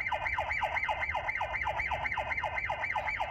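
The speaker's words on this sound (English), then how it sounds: "So you can turn on the siren" A light bulb security camera, the Rreslicam dual lens model, sounds its built-in siren: a fast, loud electronic wail that sweeps up and down steadily about three times a second, continuous and alone.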